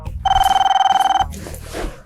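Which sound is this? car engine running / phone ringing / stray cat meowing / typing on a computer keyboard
phone ringing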